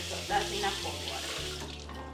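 Cold water running steadily from a tap while making teff injera, a continuous splashing stream with a low hum underneath.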